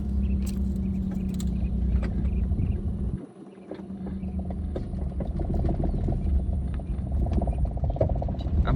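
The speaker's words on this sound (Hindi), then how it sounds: "चलो स्टार्ट करो गाड़ी" Car engine cranking and idling during a beginner's driving lesson, steady low rumble with a brief dip as it catches, then running continuously up close.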